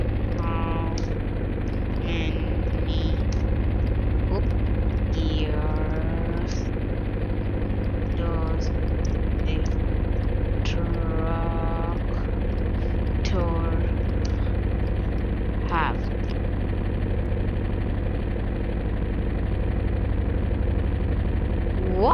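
Tractor engine in a driving game, a steady low idling drone holding constant for the whole stretch, with a voice talking over it intermittently.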